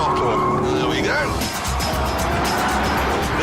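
A Ford GT's powerful engine surges under a dab of throttle as the car corners with understeer. The loud rising engine note is followed by a roaring rush and some tyre noise.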